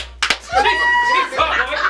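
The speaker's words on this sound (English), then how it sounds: "clap your hands" A few sharp hand claps in a call to clap along during a radio show interview, scattered and close, mixed in under continuous voices singing and talking.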